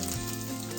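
Chopped ginger sizzles in a little hot oil in a pan for soya chilli, a brief, steady crackling fry at moderate loudness with no voices.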